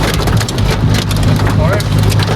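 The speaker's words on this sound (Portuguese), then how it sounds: "Eu nunca mais vi chuva de granizo." Heavy hail and rain pelting down on and around a car, a dense, steady roar of impacts with constant low rumble throughout.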